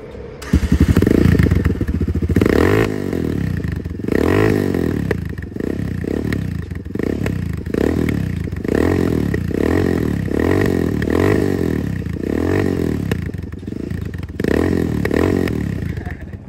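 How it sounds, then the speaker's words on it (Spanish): A loud Vento Screamer 300 Sportivo motorcycle engine starts and is revved repeatedly, each throttle blip rising and falling in a rhythmic series of roaring pulses up close. "creo que es la motocicleta más ruidosa"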